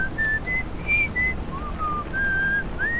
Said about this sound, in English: I swear I heard whistling